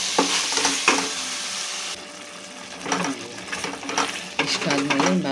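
Ginger garlic paste frying in hot oil for a Karnataka-style mutton pulao, with a steady sizzle and the scrape and clatter of a spoon stirring against the pan, no voices.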